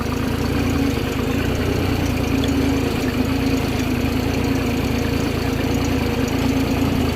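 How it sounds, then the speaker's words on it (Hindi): A Deutz Fahr 55 4WD diesel tractor pulling a Lemken plough runs with a steady, loud low drone that holds constant from start to finish, with no talking. "तो साइलेंट ट्रैक्टर है और जुताई बहुत प्यारी है भैया"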